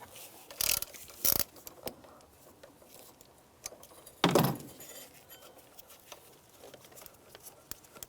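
A socket wrench with a 10mm socket removes a nut from the EGR valve of a 2006-2011 Cadillac DTS. A few sharp, close metallic clanks and rattles come in separate short bursts, with no talking.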